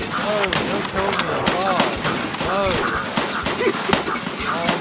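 Rapid bursts of gunfire in the video game Escape from Tarkov, team-killing with a KS-23 shotgun, with sharp repeated shots crackling over continuous voices talking throughout.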